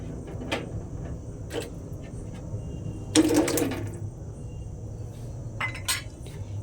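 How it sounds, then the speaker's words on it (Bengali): Small cut pieces of raw jackfruit being dropped into a pot of water while cooking a meatless curry: a few brief splashes and clinks, one fuller splash in the middle, over a low room hum. "সেই এঁচড়গুলো আমি এই জলের মধ্যে দিয়ে দেব।"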